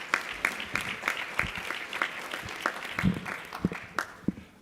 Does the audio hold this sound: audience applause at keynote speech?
yes